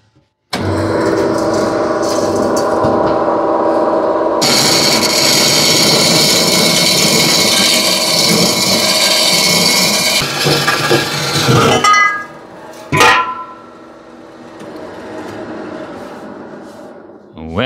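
A bandsaw cuts through steel exhaust pipe for a triple-turbo SRX 700 snowmobile build, a loud sustained grinding whine for about eleven seconds that stops abruptly, followed by clinks of metal being handled.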